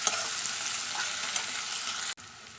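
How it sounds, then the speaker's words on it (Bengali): Chopped onions hit hot oil left from frying fish, a loud close continuous sizzle with stirring that stops abruptly near the end. "ওই মাছ ভাজা তেলের মধ্যে এখন দিচ্ছি আমি পেঁয়াজ কুচি।"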